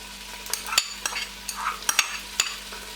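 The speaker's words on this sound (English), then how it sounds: "Add some oil, and you can add your onions" Onions frying in oil in a big pot, a soft sizzle punctuated by repeated sharp clicks and scrapes of a spoon stirring against the metal, close up and without voices.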